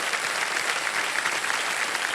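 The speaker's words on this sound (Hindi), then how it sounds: "तालियां बज जाए आपके लिए" Studio audience on a televised quiz show applauds a contestant's winnings, a dense, steady wash of many hands clapping, loud and sustained throughout without voices.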